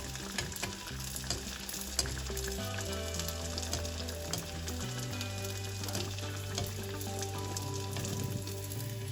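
Pathiri flatbread frying in oil in a pan, a dense, steady crackle and sizzle heard close up, with light stirring and tapping sounds now and then.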